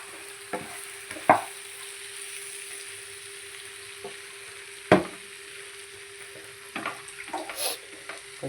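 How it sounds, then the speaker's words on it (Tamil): Onion and spice base for drumstick chicken curry sautéing in a pan, a quiet steady sizzle with a few sharp spatula knocks and scrapes scattered through, close by and with no talking. "கொஞ்சம் நல்லா வதங்கிட்டோம்."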